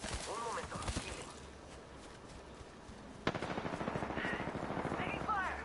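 Automatic weapon fire in the game Apex Legends crackles in rapid bursts, with game voice lines and effects mixed over it and a sharp burst partway through.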